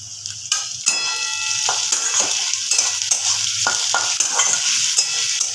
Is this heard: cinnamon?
yes